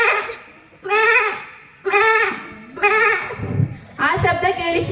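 A human voice imitates goats bleating in an open field, giving four loud, wavering bleats in a steady rhythm, each separated by a short pause, close to the microphone.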